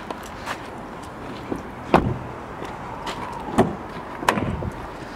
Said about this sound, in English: So here we have the electric windows and mirrors.